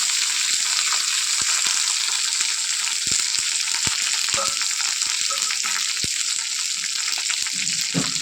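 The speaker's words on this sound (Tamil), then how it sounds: "நல்லா வதக்கணும்" Steady, close-up sizzling of onions sautéing in a pan for Bombay chutney, with occasional clicks and stirring scrapes over the constant hiss.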